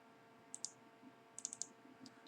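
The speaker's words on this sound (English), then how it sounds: "I'll double click on that" Crisp, faint computer mouse clicks in a quiet room, a quick double click followed by a rapid cluster of three or four clicks and a softer pair near the end.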